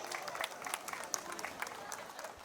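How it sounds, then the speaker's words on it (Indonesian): Wedding guests at a Singaraja reception clapping together, a faint, dense patter of applause from a crowd, steady for a couple of seconds at some distance. "Bisa beri tepuk tangan sekali lagi."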